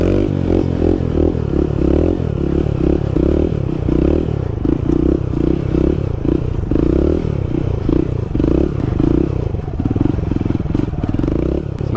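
Motorcycle engine revving hard during a wheelie stunt, a loud continuous throaty drone with rhythmic pulsing and some clatter, close to the listener throughout.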